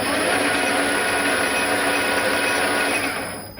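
A Hafco AL-346V metal lathe spins up after a button press, giving a steady whirring motor and gear whine that holds loud and even, then begins to fade toward the end.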